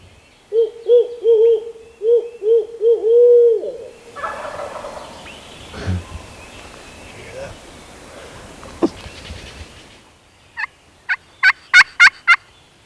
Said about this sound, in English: we got turkeys flying down on this ridge with us